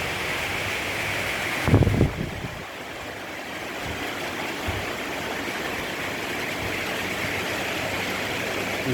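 Floodwater pours steadily into a shop after heavy rain, seeping in from below and splashing in from above. It makes a continuous broadband rushing wash, with a brief splashing disturbance near the start.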